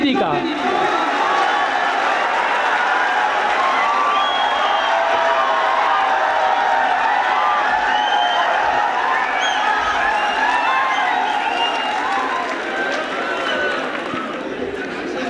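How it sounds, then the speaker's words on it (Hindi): Crowd at a Hindi comic poetry gathering, a kavi sammelan, breaking into sustained loud applause to welcome a poet, with cheers and chatter mixed into a dense continuous clapping roar that holds strong throughout. "जोरदार तालियों के साथ स्वागत करें"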